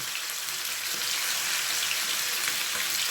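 Marinated chicken for a fried chicken biryani fries in a pan, a close, loud, unbroken sizzle that holds steady from start to finish.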